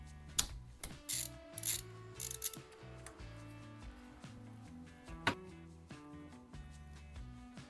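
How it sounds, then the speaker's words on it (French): A ratchet loosens the timing belt tensioner pulley on a Peugeot 207 engine, giving crisp, close clicking pawl bursts in quick repeated strokes separated by short pauses. "on va juste venir desserrer notre galet tendeur, le sortir notre courroie"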